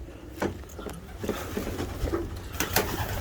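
Soft pigeon coos rise and fall against a muffled, rustling background inside a loft, with several birds calling intermittently close by.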